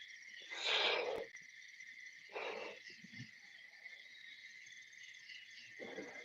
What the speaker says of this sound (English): crickets, frogs, I love it. Nighttime sound.